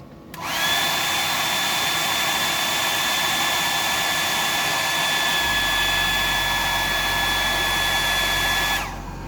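A hair dryer blows steadily to dry paint on a small hard-bodied fishing lure, a loud, continuous whine with a high tone, running alone for about eight seconds before cutting off.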